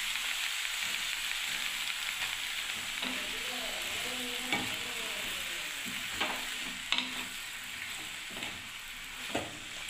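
Ridge gourd and potatoes with turmeric frying in a pan, a steady sizzle with intermittent scraping strokes of a spatula stirring, close and clear without talk.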